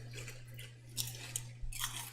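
Close, crisp crunching of Smith's scampi-flavored fries being chewed, a few distinct bites and crunches in a quiet room with no talk.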